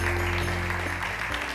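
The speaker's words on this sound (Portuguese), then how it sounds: "Uma salva de palmas." A television studio audience applauds on a Portuguese afternoon show, a dense steady wash of clapping throughout, over a low hum.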